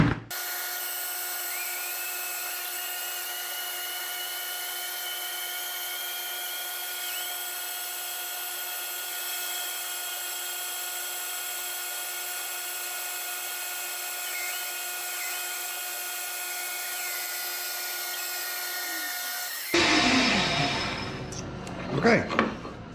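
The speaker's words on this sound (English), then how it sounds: "I can cut that radius out on the bandsaw" A bandsaw cuts a radius out of wood for a broken handle repair, its steady whining drone running unbroken for about twenty seconds before the blade exits and shuffling workshop handling noises follow.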